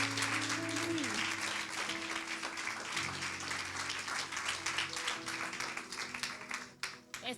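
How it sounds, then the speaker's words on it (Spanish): Church congregation applauding loudly and steadily for several seconds, with sustained tones and a voice rising above the clapping before it tapers off near the end. "Dele un aplauso a Dios. Dele fuerte, fuerte."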